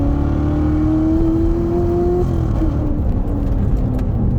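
A 2019 Chevrolet Corvette ZR1 with 755 horsepower accelerating hard, its loud, steady engine roar rising in pitch as it pulls through the gear, heard up close with no talking.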